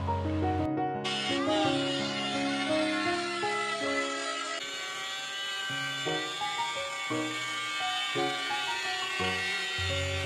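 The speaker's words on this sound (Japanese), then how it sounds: "乾燥が終わったらパーツの合板で余分な部分をルーターで切り落として" A trim router cuts excess plywood from glued parts, its high motor whine rising and dipping in pitch as the bit bites into the wood, loud and close throughout.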